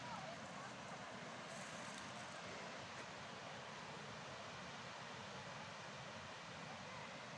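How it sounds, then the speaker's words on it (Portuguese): Water flowing along a forest trail near a waterfall: a faint, even, continuous rushing hiss heard from some distance, with no voices. "Estão ouvindo o barulho da água?"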